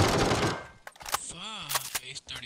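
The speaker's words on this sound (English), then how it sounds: "I wasted too many bullets shooting at the dude in the air." In the video game PUBG, short bursts of gunfire crack out in quick, uneven volleys, close and loud, with game sounds in between.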